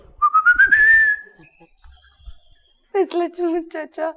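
A person whistles one clear sustained note that rises slightly and holds for about a second, fairly close and loud, and a voice speaks after a short pause.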